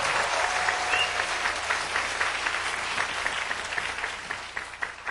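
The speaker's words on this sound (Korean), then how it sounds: "우리 하나님께 영광의 박수를 돌리십시다." An audience at a Korean church retreat lecture applauds, a dense, even clapping that stays at moderate loudness throughout and fades slightly at the end.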